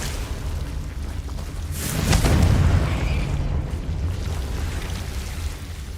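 Confringo fire spell blasting in Hogwarts Legacy, a deep rumbling boom that swells around two seconds in and rolls on as a low, sustained roar.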